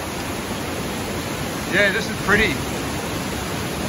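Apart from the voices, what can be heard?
Westmorland Falls waterfall with heavy water flow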